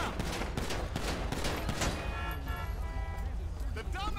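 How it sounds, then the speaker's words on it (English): A police officer firing a gun in Grand Theft Auto V: rapid bursts of gunshots early on, mixed with traffic noise and a car horn, followed by a tonal siren-like wail, with someone talking over parts of it. "Who's shooting? Oh, that's the cop."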